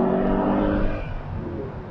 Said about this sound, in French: petit rétrogradage